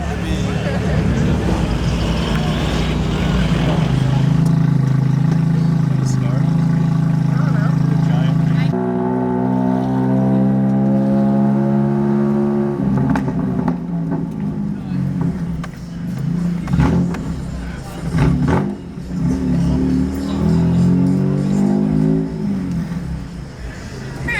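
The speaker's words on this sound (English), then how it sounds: "I can hear the exhaust over the music," A modified car's exhaust drones at a nighttime car meet, a loud engine tone rising and shifting under music and nearby voices.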